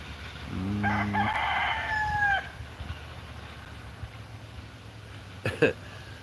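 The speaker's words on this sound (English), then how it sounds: "that dang rooster is so loud" A rooster crows once, loud and fairly close, its call rising then trailing off over a low outdoor hum, followed by a brief clatter.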